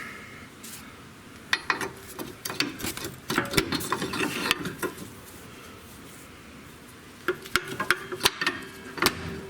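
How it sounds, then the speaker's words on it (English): A pry bar working a seized rear shock loose on a 2003-2008 Honda Pilot, close sharp metallic clicks and scrapes in irregular bursts, with quiet pauses between them. "Now, I'm going to grab a pry bar."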